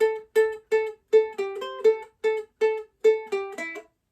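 A tune picked on a ukulele: a quick run of bright, plucked single notes, mostly repeating one pitch with short stepping figures between, clear and close with nothing else audible.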